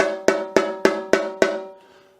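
Five evenly spaced tuned taps on a snare drum's bottom head, top head muted, ring out with a clear pitch, each decaying briefly before the next.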